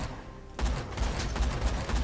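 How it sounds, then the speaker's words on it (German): Gunfire in the video game Borderlands 2, a sniper rifle shot followed by a loud burst of rapid booming reports after a quiet start, dense and noisy like a fusillade. "du schießt mit der Sniper hier rum"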